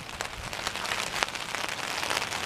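Rain falling outdoors, a steady, dense patter of drops hitting surfaces, moderately loud and close, with a few sharper splashes and no voices.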